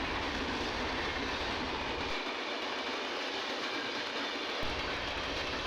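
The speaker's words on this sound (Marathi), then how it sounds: "इकडची मेल जाताच इकडची लोकल आली" A Mumbai suburban local train pulls in on a station platform, its loud, steady rumble and rattle holding throughout with a brief dip in the low roar midway; no voices.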